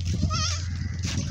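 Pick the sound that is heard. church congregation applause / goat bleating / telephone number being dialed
goat bleating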